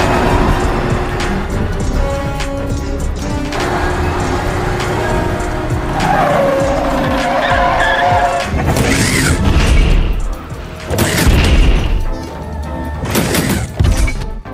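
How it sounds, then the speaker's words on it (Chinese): Cartoon action scene with an anti-tank rocket slamming into a tower: dense, loud crashing and booming bursts, with a sharp impact near the end, over continuous busy effects and rumble. "夸哥一发反坦克火箭炮打中塔标，间接的干掉了两个跟班机器人"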